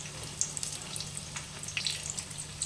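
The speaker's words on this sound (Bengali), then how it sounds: "হ্যাঁ, একটু লাল করে ভাজবো ভালোভাবে।" Eggplant frying in a pan of hot oil until browned, a steady, moderate sizzle with scattered small pops and crackles and an occasional stirring scrape.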